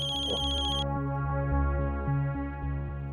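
A telephone rings with a short bright electronic trill that stops early, leaving a low sustained hum and soft background tones.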